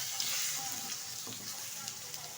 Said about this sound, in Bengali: এখন দিয়ে দিচ্ছি এর মধ্যে একটা টমেটো, দিয়ে দিচ্ছি হাফ চামচ জিরের গুঁড়ো, হাফ চামচ লঙ্কার গুঁড়ো।